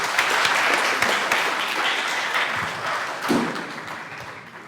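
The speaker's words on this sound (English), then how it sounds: "Round of applause to them once again." Full audience applause at the Mr & Ms Madang pageant introduction night for the Divine Word University contestants, steady and fairly loud, easing slightly toward the end with a single dull thump partway through.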